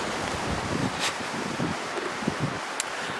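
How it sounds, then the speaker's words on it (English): Strong wind roars across the microphone in a dense, broadband rush, with a few sharp gusts and thumps standing out. "the weather has been very, very windy"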